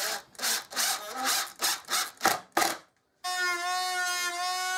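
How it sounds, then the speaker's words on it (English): An oscillating tool cuts excess material from the top of a bucket in a series of short, loud rasping bursts. A pause follows, then a steady high whine as the tool runs freely. "I could cut away the excess material at the top of the bucket, and I used an oscillating tool for this"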